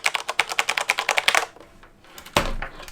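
Keys on a Corsair K63 mechanical keyboard with a plastic base clack in a brisk, even run of sharp clicks. The run trails off, and one louder knock follows after a brief gap.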